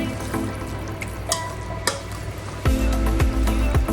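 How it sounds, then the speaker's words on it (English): Browned fond scraped from the bottom of a hot pan of sizzling lasagne meat sauce, a steady close fry hiss with intermittent metal-on-pan scrapes and clinks, growing louder and busier toward the end. "I can already scrape those lovely flavor bits from the bottom"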